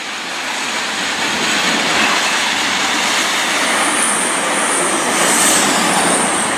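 A Class 220 passenger train bound for Manchester Piccadilly thunders past alongside a freight train, a loud, continuous close roar of wheels and engines holding steady for several seconds, with no voices.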